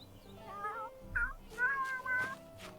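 A pet cat in The Sims 3 gives several short, clear meows in a row, each a bright rising and falling cry, fairly quiet and close with nothing else over them.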